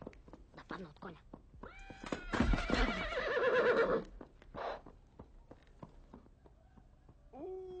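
A horse neighs loudly in a long, quavering whinny amid scattered hoof clops and knocks, with other voices and noises around it.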